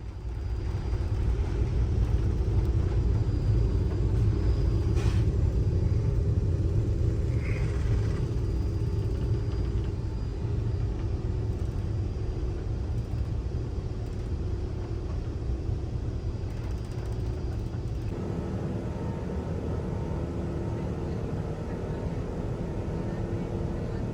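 Etihad Airbus A380 taking off, heard from inside the cabin as a steady, heavy low roar of the engines that stays constant for over twenty seconds and then drops slightly, with no voices.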